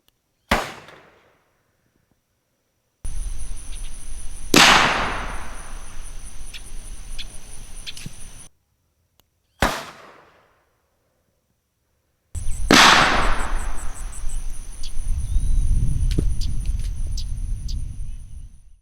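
A D.T. Systems Super Pro remote dummy launcher fires blank loads outdoors: four loud, sharp bangs in two pairs, each decaying quickly, with a steady insect drone and faint low rumble between shots.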